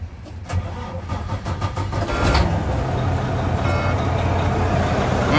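A semi truck's engine cranks and catches, then settles into a loud, steady idle as it warms up, heard close and alone without any talking.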